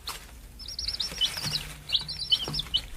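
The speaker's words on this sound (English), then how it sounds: "The bird is singing so sweetly." A bird near its nest of chicks in a tree sings sweetly, a series of bright, high chirping phrases in short bursts over faint quiet background, fairly close and clear.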